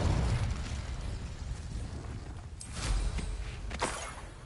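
A Confringo fire spell goes off in Hogwarts Legacy, a deep rumbling blast that opens loud and settles into a low roar, followed by a few sharper crackling bursts near the end.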